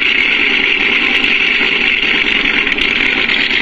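Simulated idle of a radio-controlled model engine produced by a MrRCSound V4 sound module, a loud, steady buzzing drone with a fine rapid pulse and no change in pitch throughout.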